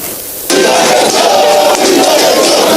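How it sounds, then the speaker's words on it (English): A loud, unsettled crowd of protesting staff union workers at the National Identity Management Commission (NIMC) bursts into shouting after a brief quiet moment, sustaining a dense roar of raised voices throughout. "An unsettled crowd once again gather at the National Identity Management Commission, NIMC"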